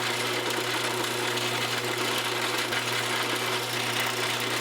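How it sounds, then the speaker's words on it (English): A drill bores a detent ball hole into a titanium folding knife, giving a steady, continuous high whine with a buzzing motor hum, moderately loud and unbroken throughout. "Now we're going to drill for the detent ball"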